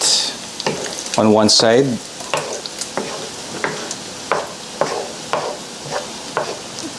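Beef tapa sizzles steadily in oil in a pan, with a string of regular clacks and scrapes as the meat is shifted and arranged; a voice talks briefly near the start.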